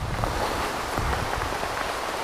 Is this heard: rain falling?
yes